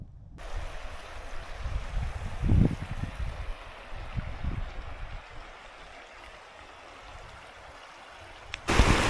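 A river in the High Sierra flows steadily with a broad, rushing wash of water, some low thumps and wind buffeting on the microphone, with no voices.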